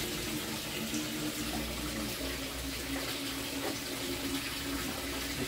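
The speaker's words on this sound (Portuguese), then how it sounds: "Aqui tá começando a cair água aqui embaixo" Water runs down from a filter in a greenhouse, a dense, steady splashing flow heard close and alone, with no voices.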